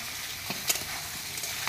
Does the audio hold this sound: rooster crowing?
no